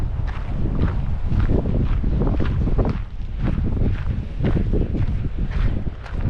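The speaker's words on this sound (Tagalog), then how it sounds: "Napakalakas ng hangin." Strong wind blows on Mount Maunganui in New Zealand, buffeting the microphone in loud, gusty rushes with irregular thumps, close and continuous with no talk.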